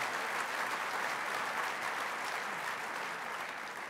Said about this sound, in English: Yes, I think that deserves a round of applause.